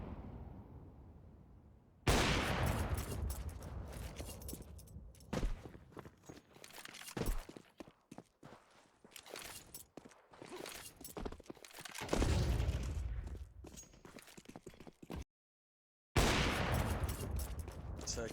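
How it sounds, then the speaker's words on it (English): Counter-Strike 2 gunfire punches through walls in loud bursts of shots with scattered footsteps, broken by sudden drops to near silence and then resuming. "Double wall bang."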